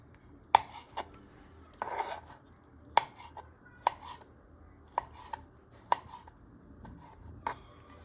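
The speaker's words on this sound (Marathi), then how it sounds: "असे सर्व मशरूम आपल्याला कट करून घ्यायचे आहेत" A knife chops mushrooms into small pieces on a board, sharp distinct taps arriving irregularly, roughly one or two per second, close and fairly quiet with soft scraping between strikes.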